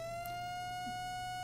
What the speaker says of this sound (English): excuse the noise. That's Radar Omega telling me there's another warning